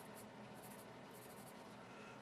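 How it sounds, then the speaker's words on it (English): Steady scratchy graphite strokes from a Camlin Exam pencil on notebook paper, close and continuous for a couple of seconds, with quick lighter flicks between longer marks. "Let's see how well this thing writes."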